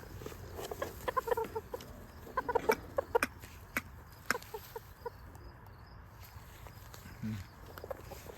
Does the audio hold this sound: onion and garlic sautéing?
no